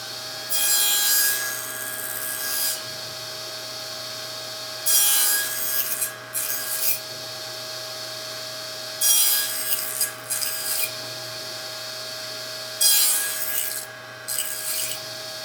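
A saw cuts wooden parts clamped in a jig while building a planer stand, sounding in four bursts of a few seconds each, spaced by short pauses, over a steady background hum.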